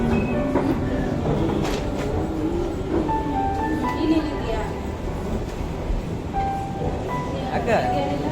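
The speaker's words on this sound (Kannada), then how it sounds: "ರೈಲ್ವೆ ಸ್ಟೇಷನ್ ನೋಡಿ" A train rumbles through a railway station with a heavy continuous roar and occasional high metallic squeals, while people talk over it.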